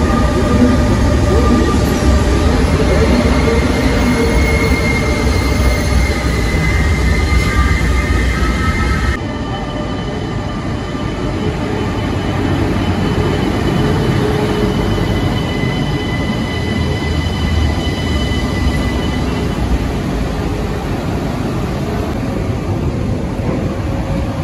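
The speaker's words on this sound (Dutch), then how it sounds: "Dit is dus een trein van het type Varkensneus." AM75 'Varkensneus' electric passenger train of Belgian railways NMBS, running between Antwerp and Essen, with a steady loud rolling rumble, wheel noise and faint squealing tones throughout, the sound shifting slightly partway through.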